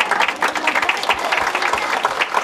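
Audience applause fills a graduation ceremony for preschool and primary school classes at a shelter, with dense, steady clapping from a sizable crowd that holds loud and continuous throughout.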